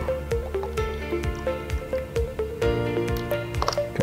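True Nopal Water is poured into a cup nearby, making a steady series of gurgling glugs and light dripping splashes in an even rhythm.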